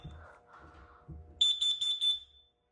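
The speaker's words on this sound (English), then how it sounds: "So we'll do the CO alarm." A carbon monoxide alarm is set off during a monthly building systems test, giving four loud, piercing electronic beeps in quick succession after some low background talk and handling noise.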